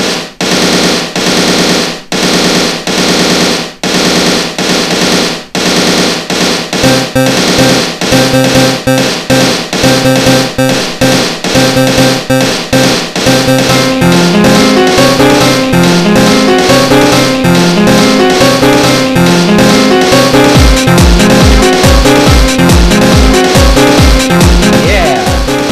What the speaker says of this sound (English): See, you can make really banging beats on here.